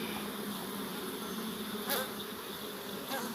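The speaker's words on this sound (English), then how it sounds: "As you can see, the bees is on it with the weight and everything" Honey bees buzz on a repaired comb tied to a Langstroth top bar. The drone is dense and continuous at close range, with a couple of brief louder passes and no speech.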